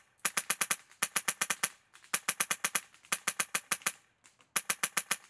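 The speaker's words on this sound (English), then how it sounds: "I'm just gonna show you some semi-auto first" A Polarstar Krytac SPR MkII airsoft rifle fires semi-auto in rapid bursts of about five or six sharp, close cracks each, with short pauses between strings of shots.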